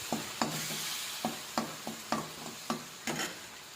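Onion paste fries in a pan for a sour snakehead fish curry while a spoon stirs it, giving about nine rhythmic scraping strokes over a soft sizzle, close and quiet with no talking.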